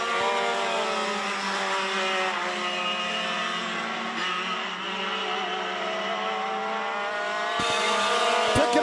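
Yamaha-engined racing karts at a karting speedway on the final lap, a dense, sustained high-pitched engine whine from several karts passing, loud and steady throughout.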